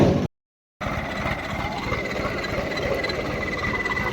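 A tractor nicknamed Dinosaur rumbles steadily as it is unloaded from a truck, its engine running continuously and fairly near, briefly interrupted by a short gap at the start.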